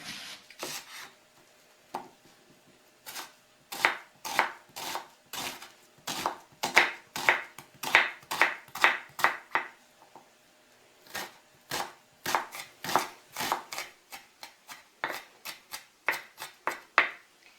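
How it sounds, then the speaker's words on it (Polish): A knife dices an onion into small cubes on a cutting board for minced meat cutlets, giving crisp, close chopping strikes in quick rhythmic bursts separated by brief pauses. "Cebulę pokroję w drobną kostkę."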